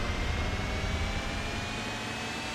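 Gran Turismo 4 car engine plays as a constant, thin, whiny drone under a wash of broadband hiss, steady and unchanging throughout, with no voices.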